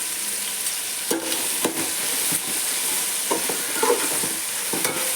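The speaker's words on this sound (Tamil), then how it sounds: "வெங்காயத்தை நல்லா வதக்கி விடணும். நல்ல ஒரு கோல்டன் ஃப்ரை கலரில் வரும்போது அது வரைக்கும் நல்லா ஃப்ரை பண்ணணும்." Onions and green chillies fry in a pan for chicken biryani and are stirred, giving a steady sizzle with periodic scraping stirs of the spoon throughout.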